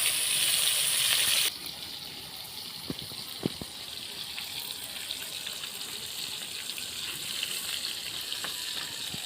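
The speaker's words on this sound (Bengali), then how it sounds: "একদম লাল লাল করে ভেজে নিয়েছি, একটা তুলে নেব।" Surma fish frying in a pan of oil in a village kitchen, a steady close sizzle with a brief louder burst at the start and a few soft clicks and taps.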